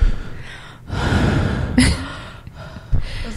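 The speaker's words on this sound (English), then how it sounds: "really breathing into the microphone" Heavy, breathy exhalations and gasps blown close into a microphone, a long rushing breath followed by a sharp gasp and a shorter puff, loud and near with no talking.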